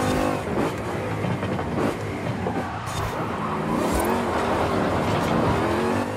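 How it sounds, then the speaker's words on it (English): Supercharged Ford Mustang GT500 in Forza Horizon, its engine roaring loud and steady throughout with revving swells and a high supercharger whine, no talk over it. "the supercharger screams at the driver the entire time"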